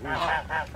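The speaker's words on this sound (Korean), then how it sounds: "거위." A large goose honks twice in quick succession, loud and close, during a family outing on Nami Island in Gapyeong, with no talk over it.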